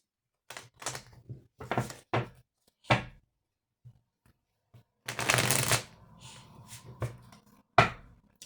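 Oracle cards are shuffled by hand ahead of a tarot-style reading, giving several quick papery riffles and flutters, then a longer dense burst of cards sliding together, followed by a few soft taps, close and alone without talk.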